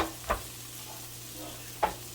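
Leftovers frying in a pan, a low steady sizzle running throughout with two brief stirring scrapes, one near the start and one near the end.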